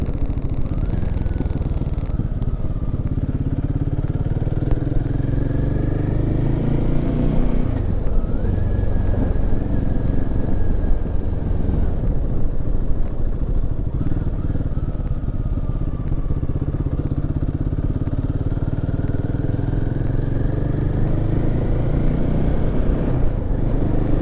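Royal Enfield Himalayan 450 motorcycle accelerating hard on the road, engine climbing through several gears with rising pitch, close and loud under steady wind rush.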